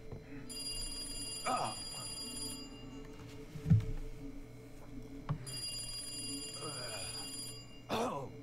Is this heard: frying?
no